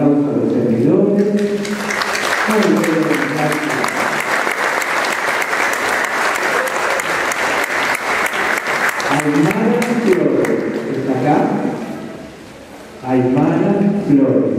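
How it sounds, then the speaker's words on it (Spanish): Applause from a congregation at a baptism in a church, sustained steady clapping for several seconds between stretches of someone speaking, fairly close and loud. "Vamos a dar un aplauso a los servidores."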